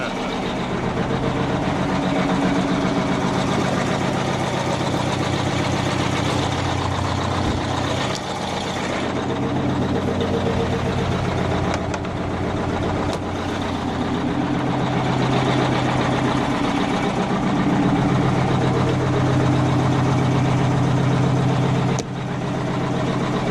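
A 1980 Chevy Bison truck with a two-stroke diesel engine idles at a vintage truck meeting in Florida, a loud steady low rumbling drone that holds evenly for the whole stretch.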